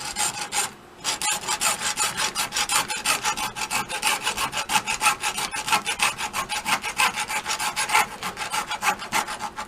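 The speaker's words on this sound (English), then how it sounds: "I'm going to use a hacksaw. Just using a hacksaw because it's fine tooth." Fine-tooth hacksaw cutting a piece clamped in a vise, close and loud, with a brisk regular rhythm of back-and-forth strokes after a brief pause near the start.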